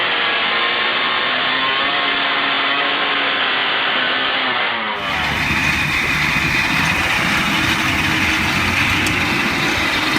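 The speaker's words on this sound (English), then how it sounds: "The Beating Heart is the world's most complex motorcycle engine, a 48-cylinder unit made from 16 Kawasaki KAH 250 engines" Beating Heart, a 48-cylinder motorcycle engine built from 16 Kawasaki KAH 250 engines in six banks of eight, running with a dense, rough mechanical roar that shifts abruptly midway to a harsher, broader drone.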